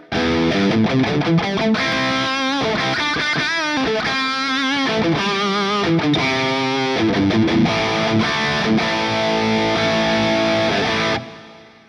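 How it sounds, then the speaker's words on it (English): Overdriven electric guitar through a Marshall-style overdrive amp model on a JOYO Jam Buddy 2 rings out loud and continuous, thick with distortion, playing chords in a riff for about eleven seconds before cutting off. "let's do the high with the overdrive and hear what that sounds like"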